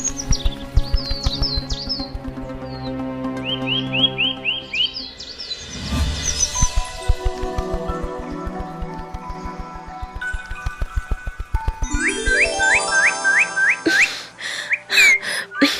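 A magical little bird in an animated Bengali fantasy tale sings in bright rising whistles and quick chirping trills over a tinkling musical backdrop, loud and close with no talk, ending in a rapid run of sharp whistled notes.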